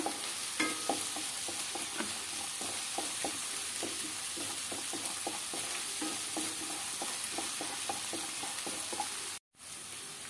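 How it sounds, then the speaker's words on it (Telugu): Masala frying for a home chicken fry, a continuous close sizzle with a steady run of light spoon taps and scrapes against the pan, cutting off briefly near the end. "ఇవ్వండి చూడండి, మన మసాలా చక్కగా వేగుతుంది అనమాట"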